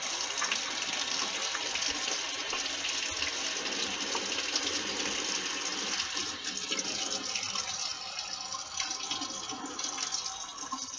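Warm water running from a tap into a small crock pot to rinse out chicken grease, a steady close splashing gush with no voices.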